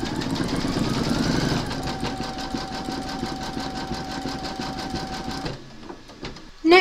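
A Brother embroidery machine stitches a large whimsical Santa design with a steady, rapid mechanical chatter and a faint whine, running close and continuous before stopping near the end; no talk over it.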